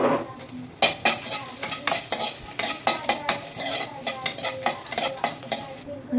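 Garlic and asafoetida fry in hot oil for masoor dal, a close steady sizzle broken by repeated scraping strokes of a spoon stirring the pan.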